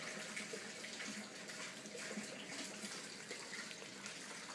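Lake water pumped up onto the slide of a Premier 310 boat, a continuous steady rush of running water, even and fairly close, with no talking.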